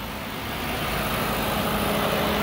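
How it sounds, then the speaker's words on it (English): A 2007 Ford Crown Victoria P71 unmarked police sedan idling with the air conditioning on, a steady, smooth low rumble and hum, close and continuous with no voices. "The engine sounds good."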